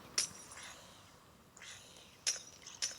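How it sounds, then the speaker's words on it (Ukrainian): Glass blocks shatter in the Minecraft video game, with three crisp, brief breaking bursts, one near the start and two close together near the end, over a quiet background. "Спочатку я хочу зламати все скло."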